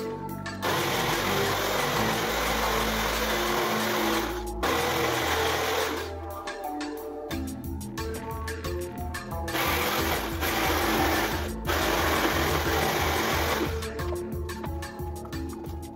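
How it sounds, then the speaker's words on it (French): Small power tool cutting a wooden plank for a miniature construction build, a close whirring motor buzz in several bursts separated by short pauses. "J'ai commencé à couper la première planche"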